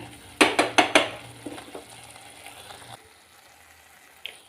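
A spoon clanks sharply against a pan four or five times while masala spice paste fries for a Karnataka vegetarian dish. The clatter then fades into a softer, faint sizzle with a lone later tap.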